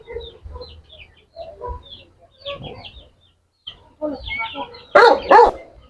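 A bantam chicken clucks softly on a rural farm among ducks, with a dog's barks and a voice nearby; the clucks are faint and scattered before louder barking bursts at the end.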